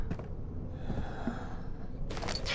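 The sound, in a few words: Daniel's heavy breathing in the video game Amnesia: The Dark Descent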